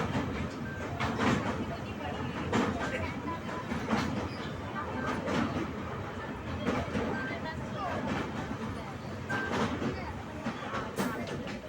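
A Jan Shatabdi Express passenger train crossing the Yamuna river on the run into New Delhi, a steady loud rumble with faint rhythmic clatter of the wheels, heard from inside the carriage.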